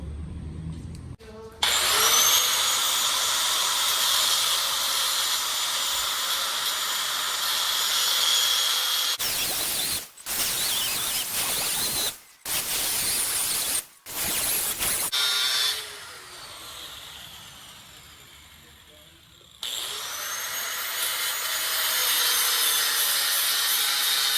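Loud power tool cutting and grinding a metal seat bracket, a sustained harsh whine broken by several short stops and restarts.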